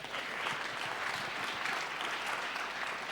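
An audience applauds steadily for about three seconds, a dense, even wash of clapping heard from within the hall at moderate level.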